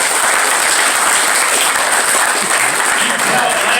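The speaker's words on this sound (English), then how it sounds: "Athletes, give your parents a round of applause." Athletes at a weekend seminar in Rock Hill applaud their parents, a dense, steady wash of clapping filling the room, loud and continuous throughout, with a few voices mixed in beneath it.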